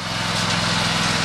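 A John Deere tractor's engine drones steadily while pulling a lawn sweeper that collects debris, a close, continuous mid-loud hum with no talking.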